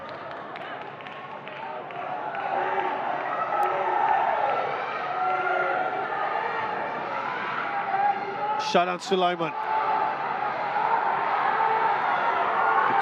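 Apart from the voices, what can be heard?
football stadium crowd urging the team forward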